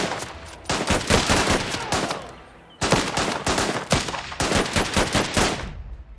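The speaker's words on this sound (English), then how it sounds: "He's cooking off rounds with a bloody machine gun." Machine gun fire in Last Train Home, loud rapid bursts of automatic gunfire in three long volleys separated by short pauses, close and dominant.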